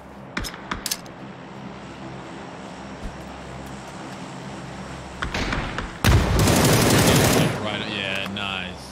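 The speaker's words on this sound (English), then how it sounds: "Weasels popping our tires instead of shooting us." Gunfire in PUBG popping a vehicle's tires, with scattered sharp shots early, then a cluster of bursts and a loud sustained rush of fire and impacts near the end, with voices talking in between.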